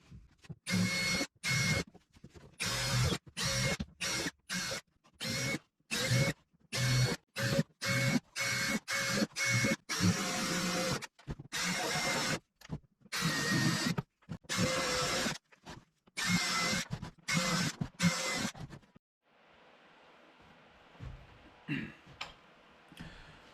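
Electric drill boring vent holes into metal cans outdoors, heard as a long series of loud, short bursts of whirring and grinding separated by brief pauses, ending in a quieter stretch of faint background sound.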